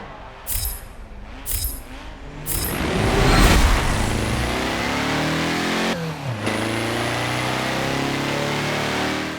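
Porsche 356A Speedster in Forza Motorsport 7, a few sharp engine blips and then a steady accelerating drone through a gear change, mid-pitched and continuous.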